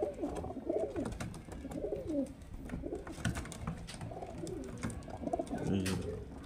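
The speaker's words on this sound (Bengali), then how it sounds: "এটা কিন্তু বাংলাদেশের পায়রা" Bangladeshi pigeons coo in soft, throaty, rolling calls that overlap continuously, close by and at moderate volume, with faint background rustling.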